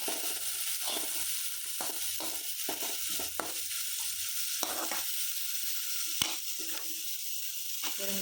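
Carrot, capsicum and cabbage sizzle steadily in a pan, sautéed for chappathi egg rolls. A spatula stirs them with repeated scraping strokes over the continuous frying hiss.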